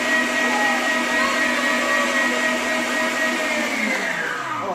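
Stand mixer whipping cream for a simple cake decoration, a loud steady whirring motor drone that holds constant, then its pitch sinks slightly as the machine slows near the end, with no talking over it.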